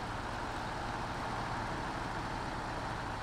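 Heavy truck engine pulling a trailer on an asphalt road, a steady low rumble and broadband drone that holds evenly throughout with no voices.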